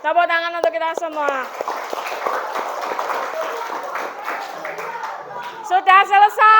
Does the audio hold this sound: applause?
yes